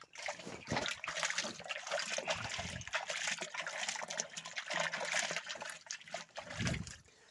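Running water splashes and trickles steadily over hands being washed, a close, continuous gurgling wash with a few heavier splashes and no talk.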